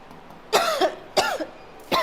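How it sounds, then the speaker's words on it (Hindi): Three sharp coughs, close and loud, spaced about two-thirds of a second apart with quiet gaps between. "एक तो यार मेरी खांसी नहीं बंद हो रही है"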